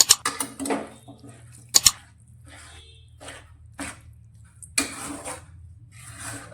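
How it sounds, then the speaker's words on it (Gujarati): Peanuts being stirred into melted jaggery in a pan for chikki, heard as scattered scraping and clinking strokes of a spoon against the pan, with a couple of sharper knocks and soft sticky shuffling between quiet gaps. "અને સારી રીતે ગોળમાં મિક્સ કરીશું।"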